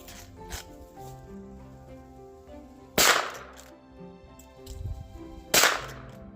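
Two sharp, loud gunshots from a Rossi R92 lever-action rifle firing 44 Special skeeter loads, spaced about two and a half seconds apart, with some lighter handling noise between shots.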